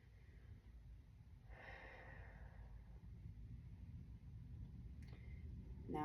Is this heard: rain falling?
no